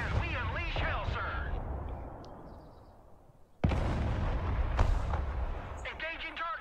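Artillery fire booms in the Broken Arrow war game, a loud blast cutting in midway after quieter rumbling, with radio-style voices talking before and after.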